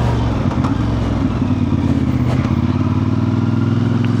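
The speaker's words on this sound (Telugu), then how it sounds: "సో మనకి ఇప్పుడు ఐడియా వచ్చేసింది బండి ఏ విధంగా యాక్సలరేట్ చేస్తుంది అనేది" A CFMoto 450MT motorcycle engine pulls hard under acceleration, a loud, steady, close-up drone with a rising rev and a rough, clattering edge, heard alone.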